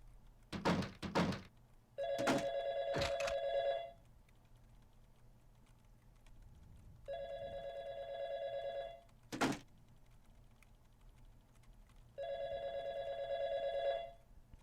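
A telephone rings from behind a bookshelf in a video game, three separate bursts of bell-like ringing spaced a few seconds apart. Faint thunks and knocks sound between the rings.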